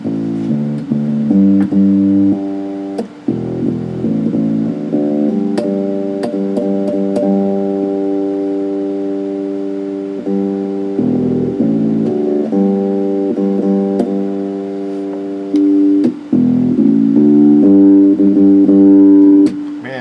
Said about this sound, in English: I love that jazz bass pickup.